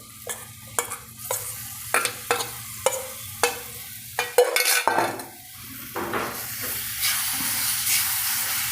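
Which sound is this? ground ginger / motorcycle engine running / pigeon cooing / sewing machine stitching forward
ground ginger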